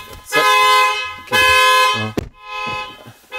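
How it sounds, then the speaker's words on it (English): A Tesla Model S alarm goes off inside the car, sounding repeated loud electronic horn-like blasts in a pulsing on-off pattern, close and harsh. "Set off the alarm."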